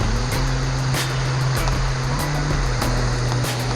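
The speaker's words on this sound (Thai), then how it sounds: "นี่ครับสถานที่ท่องเที่ยวใกล้ๆบ้านผม เป็นน้ำตก เรียกน้ำตกไซงามนะครับ" Sai Ngam waterfall pouring in the rainy season, a broad, steady roar of falling water filling the whole clip, close and loud with a low rumble underneath and no voices.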